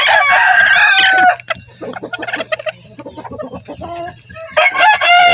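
Yellow Leg Hatch chickens near a brooding hen, with close, loud clucking and squawks, a rooster-like cry at the start, and sporadic calls continuing throughout.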